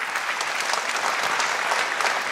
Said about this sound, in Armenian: Նախ առաջարկում եմ ծափարել նվագախմբին